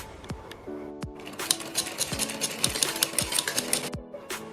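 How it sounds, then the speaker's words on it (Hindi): A sewing machine stitching along a blouse neckline, bursts of rapid needle chatter with a whirring motor between several sharp knocks and clicks, close by. "गले को पलटकर सीधा करने के बाद हम इसके किनारे किनारे पर पूरे गले के ऊपर एक सिलाई लगाएंगे"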